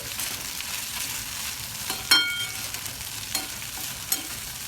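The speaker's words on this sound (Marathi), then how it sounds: "पहिलं मोहऱ्या टाकल्यात आणि जिरं टाकले तर त्याच्यामध्ये फ्राय करून घ्यायचं आहे" Mustard seeds and cumin fry in hot oil, a steady faint sizzle with a few sharp pops and crackles, one distinct burst near the middle, heard close up and without voices.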